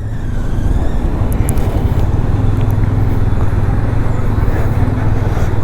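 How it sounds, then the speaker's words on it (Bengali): Lorries stand jammed at the Nabadwip rail gate, their engines idling in a steady low rumble alongside road traffic noise, with a few brief higher clicks and tones on top. "রেলগেটে একটু লরির জাম"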